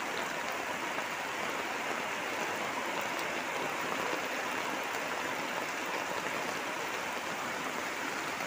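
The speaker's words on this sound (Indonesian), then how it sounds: "Ini hujannya cukup deras." Heavy rain in the countryside, a dense, even, continuous roar of falling water with no pauses, loud and steady throughout with no voices.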